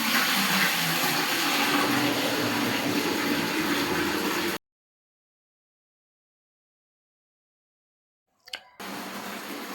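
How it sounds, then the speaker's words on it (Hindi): Water running steadily through a hose pipe into a container at home, a dense broadband rush that cuts off abruptly, then resumes after a brief clatter. "मैंने यहाँ पे पाइप डाल लिया था पानी भरने के लिए"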